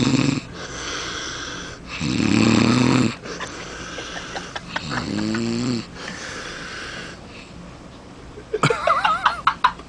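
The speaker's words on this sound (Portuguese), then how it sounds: "ronca mesmo" A man snores loudly in repeated rasping, snorting breaths, several long rattling inhales with pauses between, close and alone, ending in sharper sputtering snorts.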